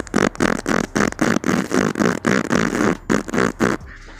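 Mouth imitation of a rotary engine's combustion noise, made by blowing through the lips in a rapid series of buzzy, flapping bursts with brief gaps, close and loud, without any talking.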